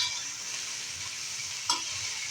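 Wet red chilies roast with peanuts and salt in a pan for kharda, giving a steady, even frying hiss with one short clink or scrape near the end.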